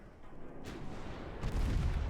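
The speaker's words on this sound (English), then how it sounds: "Torpedoes, away." Torpedoes launching from a battleship in the naval video game Ultimate Admiral Dreadnoughts, heard as two muffled booming thumps, the second heavier and closer, over a low rumbling background.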